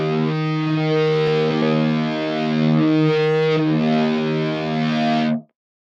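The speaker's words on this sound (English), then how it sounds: "I also set the detuned stack to power chord, which made it sound like this" Synth guitar lead playing a detuned unison power chord stack with automated unison blend, heavily distorted with a chorus-like shimmer; a thick sustained chord rings loud and steady for about five seconds, then cuts off abruptly.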